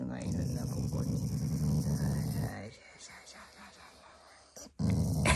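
A Shiba Inu growls close by in a low, rumbling, sustained growl for a few seconds. It stops, then starts again briefly, while someone talks nearby.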